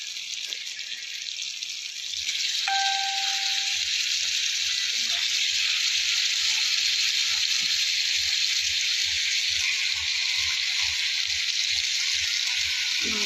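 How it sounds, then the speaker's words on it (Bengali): Tomatoes and spices fry in oil in a pan, giving a steady, bright sizzle that grows louder after a couple of seconds and holds constant, with faint clinks now and then. "ভাজা ভাজা হচ্ছে, টমেটো দিয়ে দিলাম। হলো মশলা থেকে তেল ছেড়ে গেছে।"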